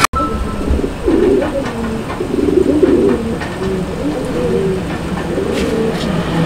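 A pair of Raj Golla fancy pigeons coo in repeated low, throaty bursts up close, over a steady background rumble resembling passing rail traffic.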